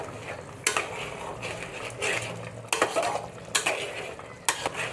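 A spoon stirs chicken with spices in a metal pan, giving sharp scraping knocks against the pan about four times between softer mixing sounds and a faint sizzle, with no talking.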